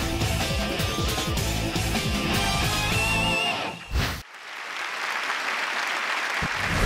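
An audience on a Zhejiang TV singing show bursts into dense, sustained applause and cheering over stage music for a singer's entrance, cutting off abruptly near the end into a quieter room tone.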